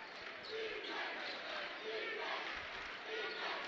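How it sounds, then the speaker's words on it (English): Crowd at a 2019 IHSAA high school basketball sectional game cheering and shouting in a gym, a steady roar of voices swelling in waves over a few seconds. "Cheer block getting into it over there as Smith falls to the floor"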